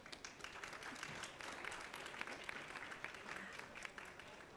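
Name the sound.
audience applause for the panelists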